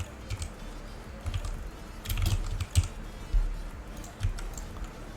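Typing on a computer keyboard: irregular soft clicks and clusters of keystrokes at close range, fairly quiet, with no voices.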